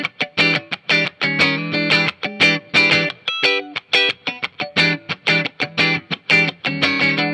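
A Fender Telecaster electric guitar with neck and bridge pickups selected together, played in a steady run of loud, distorted strummed chords with short choppy gaps between hits and no talking.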